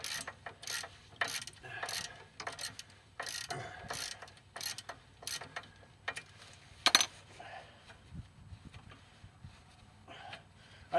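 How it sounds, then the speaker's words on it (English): A ratchet breaks loose 15 mm brake caliper bolts on a Pontiac G6, giving quiet, close bursts of rapid clicking in short repeated strokes with small metallic clinks between them. "These are 15 millimeter bolts on here, so break them loose."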